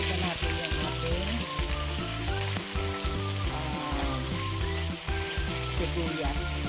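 Ginger and garlic paste frying in a pan for a beef and vegetable curry, a dense continuous crackling sizzle with a low steady hum beneath it, loud and close.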